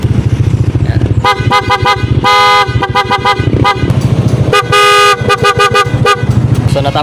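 Loud, repeated horn honks from a Yamaha NMAX 155 scooter's dual horn in quick bursts, some long blasts and some short beeps, with an engine rumbling underneath.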